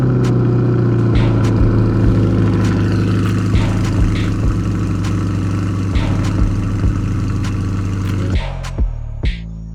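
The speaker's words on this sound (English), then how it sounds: "especially with the Z51 package, which has the upgraded sports exhaust," A 2020 Chevrolet Corvette C8 with the Z51 package, LT2 engine and upgraded sports exhaust revs loudly and up close, its steady droning growl broken by repeated sharp blips before the engine winds down near the end.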